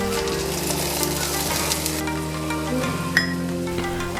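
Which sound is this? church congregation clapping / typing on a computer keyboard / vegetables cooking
vegetables cooking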